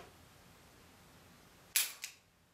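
A Ruger Super Redhawk Alaskan .454 revolver gives a sharp single-action trigger click with a quick second click right after, close and crisp against a quiet room.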